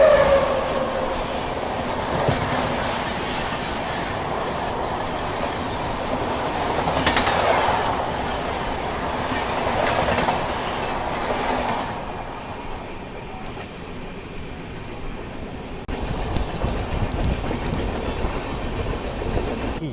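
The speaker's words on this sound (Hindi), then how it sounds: "तो ये सामने से आ रही है ट्रेन नंबर 12626 नई दिल्ली त्रिवेंद्रम केरला एक्सप्रेस।" Kerala Express train number 12626, New Delhi to Trivandrum, roars past on a parallel track, a loud continuous rumble of wheels and carriages with brief squeals, swelling around the middle and changing character near the end, with no talk.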